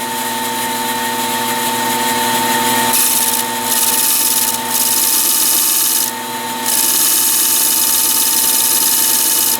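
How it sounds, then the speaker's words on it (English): A flat carbide cutter smooths a spalted maple segmented vase on a lathe, making a loud steady scraping hiss over a constant machine hum, with brief dips where the cutter lifts off the wood. "I'm going to use this flat carbide cutter for that."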